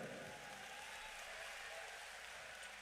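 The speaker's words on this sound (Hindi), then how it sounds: "तो इन पिता के लिए एक जोरदार ताली बजाइए।" An audience applauds at a gathering, a faint, steady wash of clapping that holds evenly for a few seconds with no clear voices on top.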